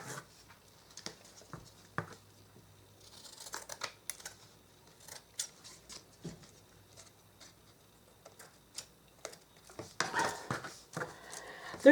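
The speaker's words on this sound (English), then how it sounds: "And then we'll just cut off all the excess that we don't need." Scissors snipping away excess material from a dollhouse build, a series of quiet, sharp clicks and cuts spaced irregularly through the stretch, growing busier and louder near the end, with no talking.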